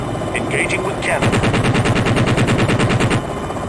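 A helicopter cannon fires in the video game Jane's Longbow: one sustained burst of rapid, evenly spaced shots lasting about two seconds, loud and close over a steady engine drone, with brief electronic chirps just before.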